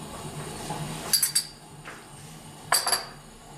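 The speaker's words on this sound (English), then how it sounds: "Always like mixing with a spatula" Spatula stirring chicken butter curry in a pan, two clusters of sharp metallic clinks and scrapes over a low background sizzle and hum, close and moderately loud.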